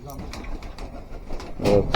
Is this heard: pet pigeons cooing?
yes